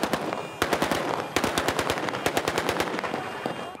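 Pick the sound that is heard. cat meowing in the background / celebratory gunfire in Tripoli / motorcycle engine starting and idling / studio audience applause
celebratory gunfire in Tripoli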